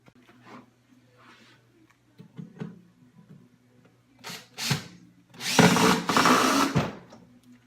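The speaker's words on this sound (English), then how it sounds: "We'll jigsaw the hole" A jigsaw cuts a hole in a wooden wood duck nesting box, sounding as two loud, harsh buzzing bursts in the second half, after a few quieter knocks and handling sounds.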